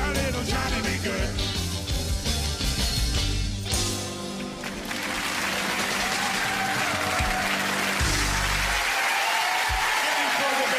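At a 1994 television variety show, a studio audience claps and cheers loudly as a rock-and-roll number ends, the music fading under the sustained applause.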